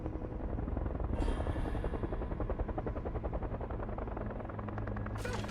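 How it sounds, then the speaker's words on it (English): Helicopters from a Stranger Things episode drone steadily with fast rotor chopping, loud and continuous throughout. "they got the helicopters"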